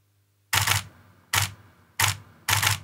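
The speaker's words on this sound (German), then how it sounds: "jedes Mal, wenn ich den Knopf an diesem Gerät drücke, löst die Kamera aus" A camera shutter fires four times, set off by a wireless radio trigger during real estate photography. The crisp mechanical clicks are close and evenly spaced in an otherwise quiet room.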